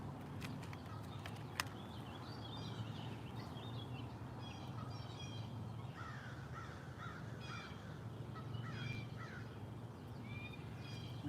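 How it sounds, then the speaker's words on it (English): Several crows caw outdoors in a series of short, harsh calls, clustered mostly in the second half and heard at moderate distance over a steady background hum, with no talking. "the crows are yelling."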